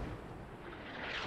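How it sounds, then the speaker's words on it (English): Mortar fire in the military shooter Squad, with a deep rumbling boom and sustained low roar spreading out, fairly distant and muffled, with no speech over it. "Double mortars"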